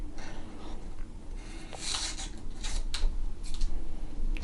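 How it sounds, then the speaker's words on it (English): Scissors trim road bike handlebar tape at an angle, producing close, soft rasping snips and rubbing scrapes in a few uneven bursts over a low steady room hum, with no talking. "And then I'm going to trim this at a little angle."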